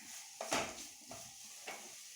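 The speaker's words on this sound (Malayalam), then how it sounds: "ഇതിലേക്ക് തിളച്ച വെള്ളം ഒഴിക്കുകയാണ്." Boiling water poured into a pan of frying vermicelli gives a few quiet hissing sizzle bursts in close succession, the first the strongest, each fading quickly.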